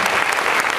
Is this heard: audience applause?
yes